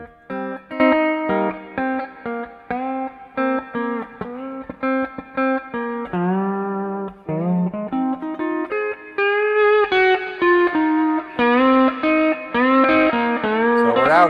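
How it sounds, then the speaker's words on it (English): A pedal steel guitar played through a Quilter Steelaire amp with overdrive distortion rings out in sustained, sliding chords and phrases, loud and close, with short gaps between notes. "Now getting a little bit of overdrive distortion."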